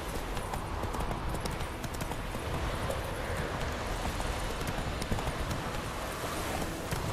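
Roach the horse gallops in The Witcher 3 with a steady, continuous drumming of hooves, loud and close, against dense game ambience with no talking.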